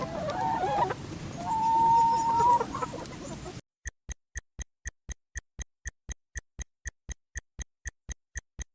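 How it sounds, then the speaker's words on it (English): A chick for an animal sound guessing game: after a few seconds of noisy background with a thin whistling tone, a steady run of evenly spaced, sharp little peeps repeats alone against silence. "It's a chick"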